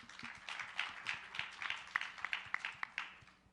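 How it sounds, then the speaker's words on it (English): Audience applause after a talk at a youth panel event, a sparse scattering of hand claps at moderate distance, with individual claps standing out through the whole stretch. "A round of applause for her, please"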